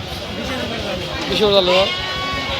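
A goat bleats in a quavering cry that rises near the middle, heard over a steady murmur of people talking at a crowded cattle and goat market.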